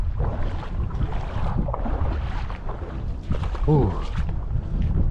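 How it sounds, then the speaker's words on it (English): Gusty wind buffeting a microphone beside Llyn Diwaunedd, a lake in Wales, while fly fishing: loud, low, rumbling blasts rising and falling, with a brief spoken exclamation partway through. "It's becoming more and more windy."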